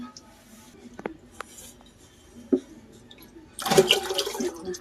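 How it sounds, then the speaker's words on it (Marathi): Reserved vegetable cooking water is poured into simmering pav bhaji: a few faint clinks, then a brief, splashy pour near the end. "भाजीतलं काढून ठेवलेलं हा पाणी ओतते"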